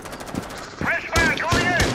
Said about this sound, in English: they're shooting each other though